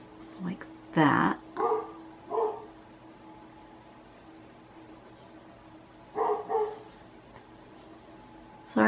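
A neighbouring dog barks from next door, its barks coming in short bursts of two or three with pauses between, moderately loud over a quiet indoor background.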